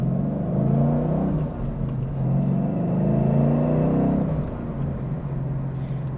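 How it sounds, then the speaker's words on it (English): A 2014 Ford Mustang GT California Special accelerates with a deep, steady exhaust rumble that swells and eases slightly, heard close and without talk. "Just love the sound of that exhaust though."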